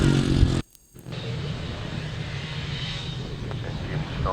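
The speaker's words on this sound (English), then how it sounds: "Engine starts to rev on the starting line." Grasstrack racing motorcycle engines revving on the starting line at an outdoor meeting, a loud sustained roar with a brief dropout before the blended engine noise resumes steadily.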